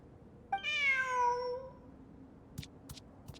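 A cat in the Genshin Impact video game gives a single clear, drawn-out meow, followed by a few faint soft clicks.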